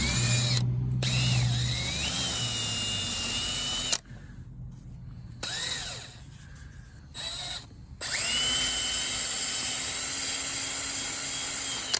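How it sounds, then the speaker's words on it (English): Cordless drill pre-drilling holes through rubber seals for roof rails on a second-generation Honda CR-V, steady whining spin-ups broken by short pauses, close and loud with no talking. "we're going to pre-drill holes through the rubber."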